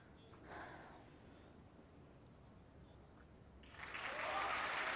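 An audience on a Polish TV game show breaks into applause near the end, rising from faint breathy noise into a loud, dense clatter of clapping.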